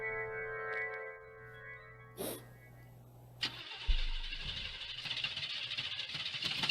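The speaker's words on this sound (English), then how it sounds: "The motor won't turn over." A car engine in an old radio mystery drama cranks but fails to catch, a grinding mechanical churn that stops short, preceded by a steady tone and a sharp click, then rough rattling noise.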